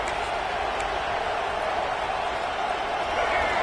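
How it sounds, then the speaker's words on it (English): Steady, broad video game stadium crowd roar at a college football game fills the whole stretch without pause, a dense wash of many voices at an even level, with no distinct individual voices. "This crowd bringing the energy and noise early."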